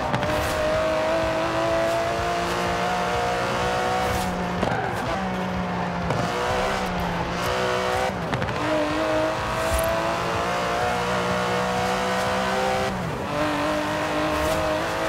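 An Aston Martin DB11 with a 5.2-litre twin-turbo V12 races in Forza Horizon 4, its engine droning loudly and steadily, with pitch rising through the gears and brief drops at shifts.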